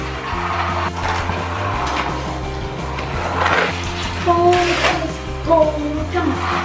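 Thomas Trackmaster Turbo toy train racing fast along a plastic jungle jump track set, a continuous rolling, rattling motor whir with brief clacks and a few squeaky peaks, steady and close throughout.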